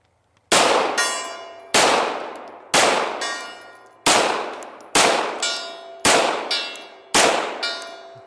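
Pistol shots from a Beretta 92FS or Glock striking a long-range steel gong target, seven evenly spaced loud metallic clangs, each ringing out and decaying before the next.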